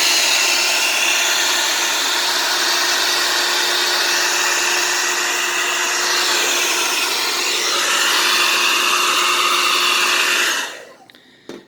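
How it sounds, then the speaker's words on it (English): A hair dryer on medium heat blows warm air into the vents of an unplugged Haier LED smart TV, a loud, steady whooshing drone with a constant tone that runs for about ten seconds before cutting off. "I want you to blow warm air."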